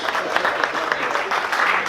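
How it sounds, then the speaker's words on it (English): Wedding reception crowd applauding the maids of honor, a steady wash of clapping that fills the whole stretch at moderate volume, with some voices mixed in. "a great big round of applause for our maids of honor"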